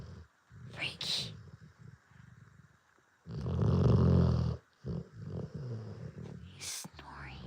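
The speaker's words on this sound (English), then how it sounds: "Cute little guy snoring." A small male dog snores in soft, rhythmic breaths close by, with one louder, longer snore in the middle, while a person murmurs quietly in between.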